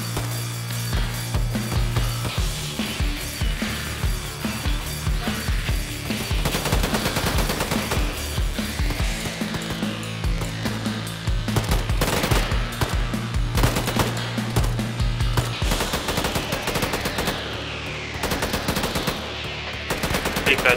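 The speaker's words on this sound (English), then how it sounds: "we're actually taking a lot of fire from direct north where we're moving right now" Sustained automatic machine gun fire in the Arma 3 military shooter, dense rapid bursts overlapping with other gunfire throughout, loud and continuous with faint radio-style background.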